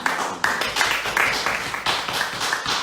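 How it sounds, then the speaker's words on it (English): Uneven clapping from a rally crowd at a town hall meeting in Lagos, fairly close, with sharp individual claps standing out over a looser patter. "Please give the round of applause to the organizers"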